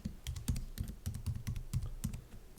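Typing on a computer keyboard, steady clusters of crisp key clicks at close range with short pauses between bursts, no voices.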